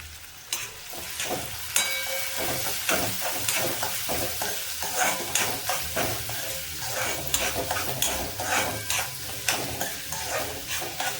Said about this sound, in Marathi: शेंगदाणे टाकायचे आपल्याला.